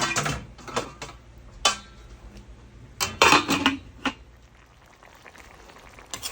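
A metal pot lid clatters onto a cooking pot of chopsuey, with several sharp clinks and scrapes spread across a quiet kitchen, the loudest knock near the middle.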